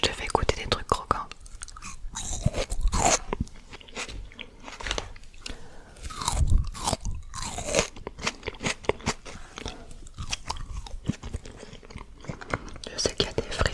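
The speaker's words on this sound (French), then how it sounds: "Je te fais goûter des trucs croquants." Crunchy McDonald's fries being bitten and chewed up close, with repeated crisp crunches and munching in an irregular rhythm, while a person talks softly in between.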